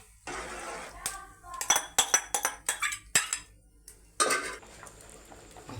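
A spoon stirring cooked rice into a pot of hot jaggery syrup for rice payasam, giving a close run of sharp metallic clinks and scrapes against the pot, with a brief stretch of hissing bubbling at the start and end.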